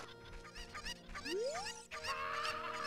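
A cucco, the chicken in the video game The Legend of Zelda: Ocarina of Time, gives rapid clucks and squawks close by over looping game music, with a rising whistle-like tone in the middle.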